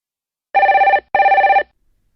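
Two bursts of a classic trilling telephone bell, each about half a second long with a short gap between them, clear and close with no voices.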